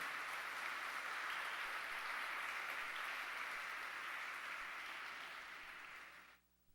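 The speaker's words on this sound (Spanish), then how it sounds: "Dale un fuerte aplauso a ese Señor" Church congregation applauding loudly after the preacher's call, a dense steady wash of clapping that holds for about six seconds before cutting off abruptly.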